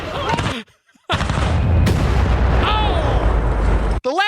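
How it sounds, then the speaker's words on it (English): Blasts destroying a Tesla car: a sharp explosion, a short silence, then a second heavy detonation that rolls into a long, loud rumble before cutting off abruptly. "here's the quick countdown and the double, triple explosion that occurs to get rid of this vehicle"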